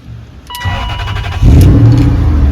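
A car engine cranking and catching after being started with a screwdriver jammed in a broken ignition barrel, loud and close, rising into a steady idle rumble.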